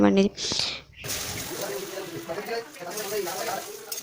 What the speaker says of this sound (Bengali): তার মধ্যে এবার দিলাম ডিমটাকে একটু ভেজে নেবো এটার মধ্যে